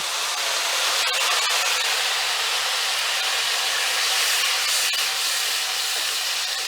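Tomato and green chili paste hits hot butter in a pan for paneer butter masala, giving a steady, loud, unbroken sizzling hiss that holds evenly throughout.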